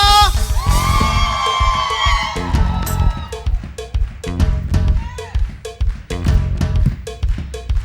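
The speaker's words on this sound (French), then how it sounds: "peux-tu faire des cris de joie?" A church congregation lets out joyful whoops and shouts over lively worship music with a steady clanking cowbell-like beat, with loud rising cries at the start.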